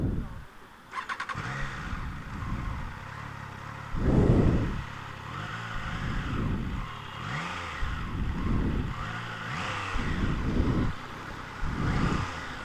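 A Triumph Trident 660 motorcycle engine cranks and fires up, then idles with periodic rev blips rising and falling, close and fairly loud, with no talk over it.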